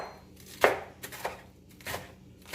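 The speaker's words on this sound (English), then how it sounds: "And just start chopping into it." Knife chopping a tight bunch of cilantro on a cutting board, a few separate sharp thunks spaced irregularly, close and alone.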